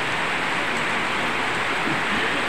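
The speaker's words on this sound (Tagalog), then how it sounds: "nag-arrange pa naman sila doon sa labas pero nahinto kasi may ulan" Steady rain falls outside, a dense, even hiss with no pauses and no voices.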